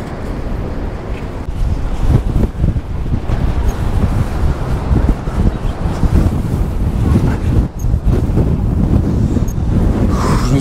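Strong coastal wind at Cape Town roars and buffets the microphone in a continuous loud rush, with surf faintly mixed in beneath the gusts.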